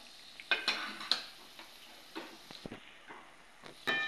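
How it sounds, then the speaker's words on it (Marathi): Mutton pieces tipped into cooked masala in a pan and stirred, giving a few close clattering scrapes and soft sizzling bursts with quiet gaps between. "शिजलेला आहे मसाला, त्यामध्ये मटण टाकून घेणार"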